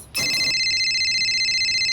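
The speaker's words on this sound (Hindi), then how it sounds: "उसी का फोन होगा।" A telephone rings in a Hindi crime-drama household scene: a brief noisy burst gives way to a steady, loud electronic ringtone tone that sustains alone for over a second.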